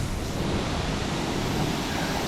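A waterfall in the woods along a hiking loop gives a loud, steady broadband rush of falling water, continuous and close, with no voices.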